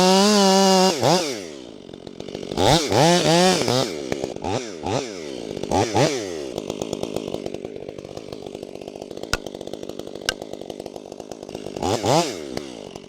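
A STIHL chainsaw is hot-started and cuts into a tree in a light breeze, its engine revving loudly in repeated rising and falling bursts that settle into a sustained snarl.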